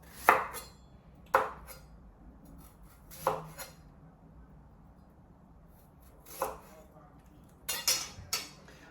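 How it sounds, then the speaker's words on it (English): A knife slices a sweet potato into coins on a cutting board, giving a handful of sharp, separate chops at irregular intervals, fairly quiet and close, with near silence between cuts. "I'm just gonna keep slicing those"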